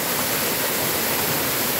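Continuous rushing water from a small waterfall with about a 3-metre drop, a dense steady roar close by with no other sounds.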